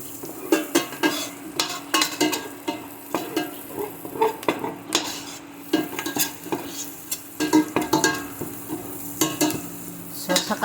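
Onions tossed into a pan of browning garlic sizzle steadily while a utensil repeatedly scrapes and clinks against the pan in an uneven stirring rhythm, close and alone without talk.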